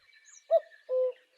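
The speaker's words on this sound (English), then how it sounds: "Okay, here's the cuckoo bird." Played from a recording, a cuckoo calls its two-note song, a short higher note followed by a longer lower one, clear and isolated against faint background.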